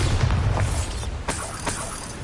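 A Bombarda spell explodes in Hogwarts Legacy with a loud, booming burst, followed by rumbling debris and a couple of further thumps, close and dense.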